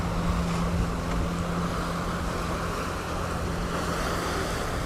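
The boat Vestri crosses the Georgia Strait in open water, a steady low engine drone under continuous wind buffeting and wash from the waves. The noise is loud and constant, with no voices.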